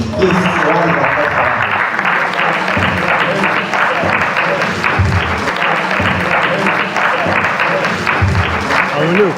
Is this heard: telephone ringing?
no